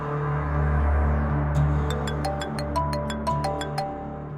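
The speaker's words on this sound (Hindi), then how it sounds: "अमर माहिन का फोन" An electronic ringtone melody plays as a series of short repeating chimes, fairly loud and steady, with no talking.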